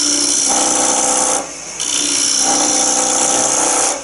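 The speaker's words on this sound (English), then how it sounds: "I use the scraper to scrape." A rod scraper cuts across spinning wood on a lathe while woodturning, giving a loud, harsh scraping rasp with a steady whine that pauses briefly midway, then resumes.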